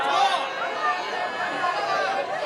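A noisy, restless crowd at a Charlie Kirk event, its overlapping chatter and babble filling the room continuously at moderate loudness with no clear pauses.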